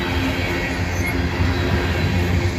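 A freight train with graffiti-tagged cars rolls past close by, a steady loud rumble of wheels on rails with a faint high squeal above, continuous throughout.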